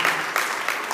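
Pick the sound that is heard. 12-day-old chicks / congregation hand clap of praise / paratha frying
congregation hand clap of praise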